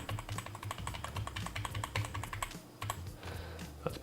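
Rapid typing on a computer keyboard during desktop editing work, a steady run of crisp close key taps and clicks at moderate pace, quiet and alone without talk.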